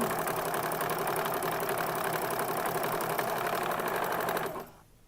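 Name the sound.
sewing machine winding a bobbin at full speed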